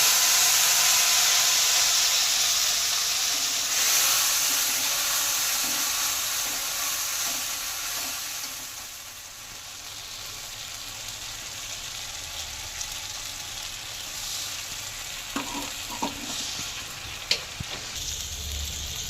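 A paste of cashew and sour yogurt hits hot oil with whole spices and dried chilli, giving a loud sizzle that slowly settles into steady frying with a few clinks of a utensil near the end.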